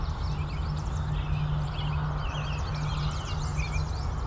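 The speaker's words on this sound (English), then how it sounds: "So you can hear some American robins, yellow warblers, there's a couple Canada geese going overhead." Outdoors, American robins and yellow warblers sing in quick, faint chirps over a steady low hum of background noise, with Canada geese honking overhead.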